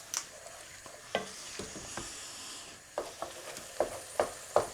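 Minced meat and vegetables sizzle softly in a pan, with a spoon scraping and stirring in irregular clicks and knocks over the quiet frying hiss.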